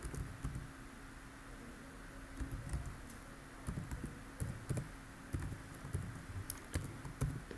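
A tag name is typed on a computer keyboard, with quiet, irregular key clicks in short bursts against a faint steady hum, and no talking.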